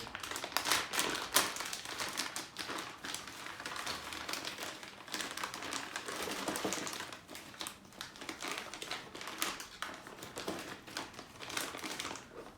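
Plastic crinkles and crackles steadily for several seconds, close up, with dense rustling and small clicks as a bag of Kyosho Ultima RC car parts is handled and torn open.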